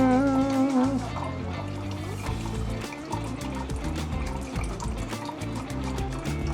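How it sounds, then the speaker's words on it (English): Broth is poured into a measuring cup in a home kitchen, a close, continuous liquid stream that fills the cup steadily and ringingly for several seconds. "We need a cup of broth. So that's gonna go up to a cup and a half."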